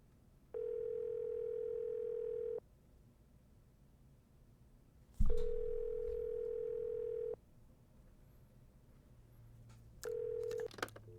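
A telephone rings in the video game Nancy Drew: The White Wolf of Icicle Creek, three steady electronic tones, two long and one short, separated by pauses, with a click near the middle.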